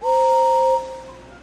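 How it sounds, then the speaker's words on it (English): A steam-engine whistle from a Thomas & Friends PC game: one loud, steady two-tone blast of about three-quarters of a second that then fades into a soft tail, with no voices. "I'm sure everybody knows my whistle."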